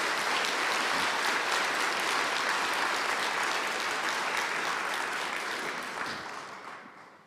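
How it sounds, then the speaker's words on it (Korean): A church congregation at a Thanksgiving Sunday service at Kyungdong Church claps in welcome for a visiting guest, steady and full-bodied applause filling the hall before gradually fading away. "여러분들 환영의 박수 부탁드리겠습니다"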